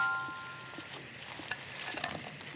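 Garlic fries in oil while held in a strainer, a soft steady sizzle with small pops and crackles in a kitchen, fairly quiet and continuous, with no speech.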